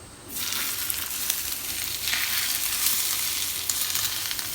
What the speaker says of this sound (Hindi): अब इस पे हम थोड़ा सा देसी घी का तड़का लगाते हैं